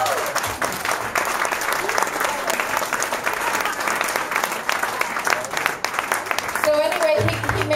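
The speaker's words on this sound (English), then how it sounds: "give him a round of applause" A live concert audience claps steadily in sustained applause with scattered cheers, and a voice speaks briefly near the end.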